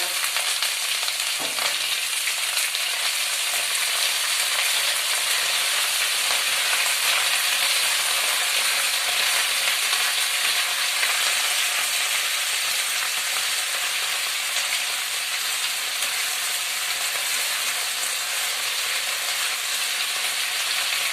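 Beans and cabbage sizzle with spices in a pan, an even, continuous frying hiss that stays loud and steady the whole time, with no voices over it.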